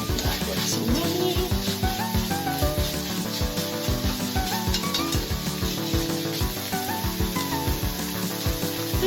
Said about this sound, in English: mix that around with your garlic paste